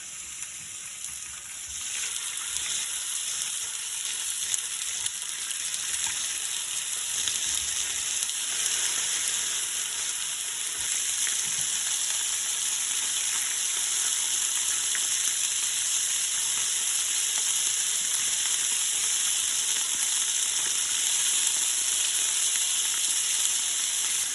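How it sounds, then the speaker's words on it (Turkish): Meat sears loudly in hot oil, a steady crackling hiss that rises early on and then holds. "Yağımız iyice ısındıktan sonra etlerimizi alalım. Önlü arkalı mühürleyeceğiz."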